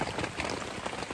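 Steady rain drums on a tarp stretched over a tent at a North Georgia campsite, a dense, close patter with no voices.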